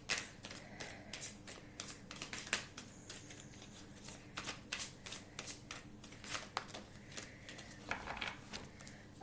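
Tarot cards are shuffled by hand up close, a rapid series of crisp riffling bursts and soft slaps repeating irregularly throughout, quiet and alone with no talking.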